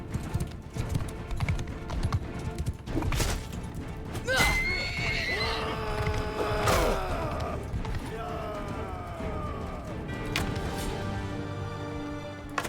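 A horse in the Mount and Blade Bannerlord video game neighs and whinnies loudly during a battle, with hoof clip-clop, clashing impacts and a voice talking over the game sounds.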